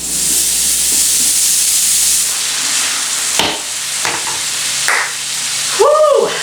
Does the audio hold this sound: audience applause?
no